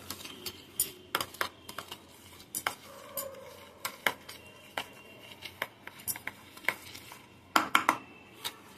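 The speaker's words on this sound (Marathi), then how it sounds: "तुपामध्ये मेथी पावडर मिक्स करून घेऊया." Fenugreek powder being mixed into ghee in a pan for methi ladoo: quiet, irregular scrapes and clinks of a spoon against metal, repeated steadily and close up with no talking.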